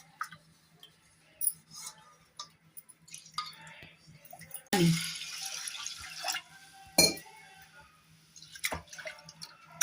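A glass of water is poured into a pot of washed mixed lentils in one splashing rush lasting about a second, with scattered drips and small clinks before and after.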